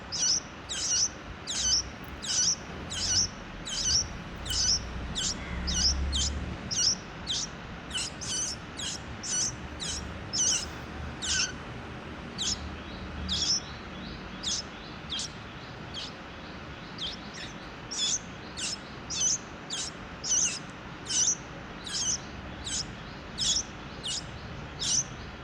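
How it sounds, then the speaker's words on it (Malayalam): Baby birds of a parrot-sized species chirp in thin, high, rapid calls that repeat in a steady rhythm, close by and fairly soft, with no talking. "ആക്ച്വലി ഒരു തത്തയുടെയൊക്കെ അത്രയും സൈസിലുള്ള ഒരു കിളിയാണ്"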